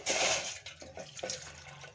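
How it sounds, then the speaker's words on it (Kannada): Water, about two cups, pours into a pot with a rushing splash that settles into uneven gurgling and trickling, close by. "ಎರಡು ಕಪ್ ಆಗುವಷ್ಟು ನೀರನ್ನು ಹಾಕೋತಾ ಇದ್ದೀನಿ"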